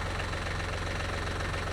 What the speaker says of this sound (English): I'm gonna try to use my tractor to make this happen